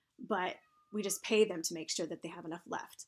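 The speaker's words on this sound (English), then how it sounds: "Apologize for the whiny cat in the background." A whiny house cat meows in the background, its drawn-out cry threading through a man's steady speech.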